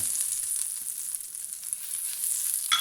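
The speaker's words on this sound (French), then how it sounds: "Là je viens badigeonner mon mélange de beurre et huile" Butter and oil mixture sizzling in a hot pan for a Turkish stuffed flatbread, a steady close hiss throughout with a brief clink near the end; no talking.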